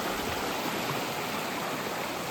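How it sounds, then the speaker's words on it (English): A swollen, fast-flowing stream on a hiking trail rushes in a continuous loud broadband roar, close and unbroken, with no voices. "The water has risen and is flowing pretty fast through here."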